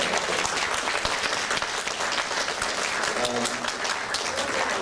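Sustained audience applause filling a convention hall at a retro gaming expo, dense crowd clapping throughout at steady loudness, with a brief voice near the end.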